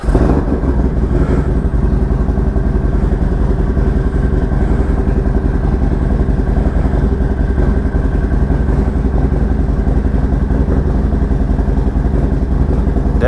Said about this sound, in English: So we'll see how it works with the noise of the bike